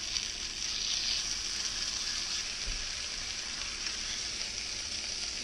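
Lamb pieces fry in a pan with a continuous, even hiss of sizzling fat, steady and close, with one faint low bump partway through and no voices.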